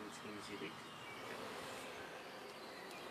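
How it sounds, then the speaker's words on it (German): Honeybees slowly leaving their hive boxes outdoors in a city park: a faint, steady, diffuse buzzing of many insects that stays constant throughout, with low background noise. "Eher gemächlich kommen die Bienen aus den Kästen."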